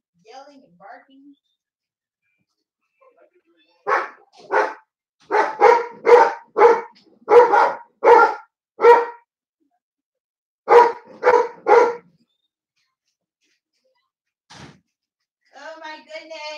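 Dogs bark in repeated bursts, clusters of sharp barks separated by pauses, with a few scattered yips near the end.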